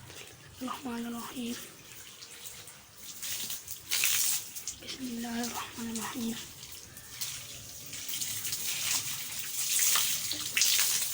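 Water from a pipe fed off the main line pours onto a newly built brick wall in a steady, close hiss and splash, with a voice speaking briefly early on.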